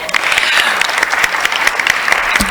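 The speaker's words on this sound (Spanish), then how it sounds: "Un aplauso, por favor." An audience at a political panel discussion on women and class struggle applauds, a dense, steady round of clapping that fills the whole stretch loudly with no voices over it.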